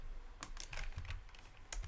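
Quiet keystrokes on a computer keyboard while code is typed, a few soft uneven clicks in a short burst, close but low in level.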